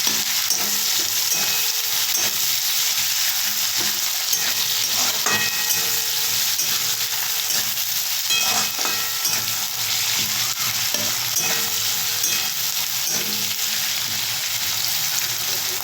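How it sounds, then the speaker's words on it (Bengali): A large onion fries in oil in a home kitchen pan, browning with a loud, dense, continuous sizzle and occasional stirring scrapes throughout. "দিয়ে পেঁয়াজটাও ভাজতে থাকবো ব্রাউন ব্রাউন করে"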